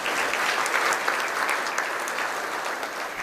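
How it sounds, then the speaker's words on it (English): At a chamber of commerce luncheon, a roomful of diners breaks into steady, full applause that holds at an even level and fades slightly toward the end. "Let's give her a round of applause."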